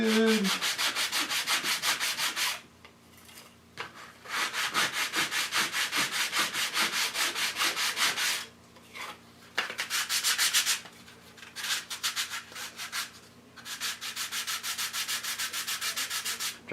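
Hand sanding a mahogany guitar body makes a loud, close, rhythmic rasp of rapid back-and-forth strokes in long bursts separated by short pauses.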